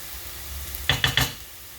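Mustard seeds sputter in hot oil while cooking, three quick sharp pops in close succession over a faint background hiss.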